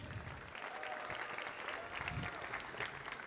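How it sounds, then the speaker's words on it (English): Steady applause from a theater audience at a Kennedy Center Millennium Stage performance, a dense wash of clapping heard from a distance and faint throughout. "please give a huge round of applause"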